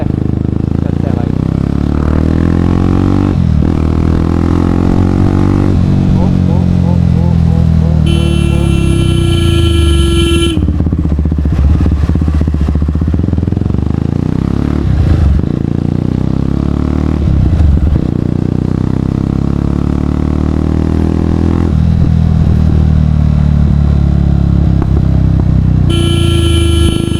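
A Jawa 42 Bobber motorcycle converted into a cafe racer rumbles loudly and continuously while riding, engine note rising and falling with throttle, with wind noise and occasional horn-like tones along the road.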